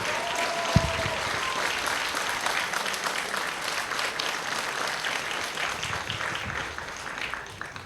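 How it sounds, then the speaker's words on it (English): Applause from a convention audience at a retro gaming event Q&A, steady and dense for about eight seconds, heard from within the hall, with a single sharp thump near the start. "Dlaczego nie ma braw?"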